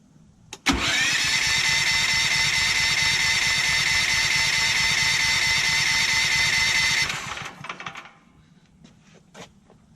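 A Ford FG11050PBE dual fuel generator engine cranks and catches at once, then runs loud and steady for about six seconds before shutting down and leaving faint clicks and handling noises.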